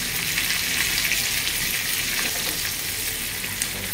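Mustard seeds, white sesame, asafoetida and curry leaves sizzle and crackle in hot oil for a tempering, a steady dense frying hiss running throughout with no talking.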